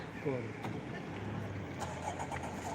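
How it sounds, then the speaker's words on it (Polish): Several cars idle and creep along in a traffic jam on a street, a steady low engine rumble with a brief engine rev, under people talking nearby. "no i jedzie parę samochodów i już jest zatkany"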